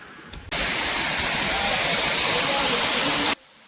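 A loud, constant roar of rushing water fills the clip, starting abruptly and cutting off just as suddenly, close to Ubalamadugu Falls.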